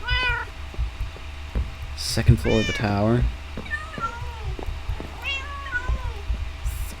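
Minecraft cats give a string of clear meows, with a loud, drawn-out mew near the middle and softer ones after it, over a low steady hum, while someone speaks a few words.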